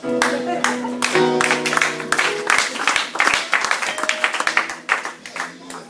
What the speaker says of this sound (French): je prie, vous allez applaudir.